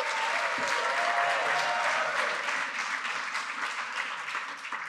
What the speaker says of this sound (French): Vous vous demandez pourquoi tous ces applaudissements.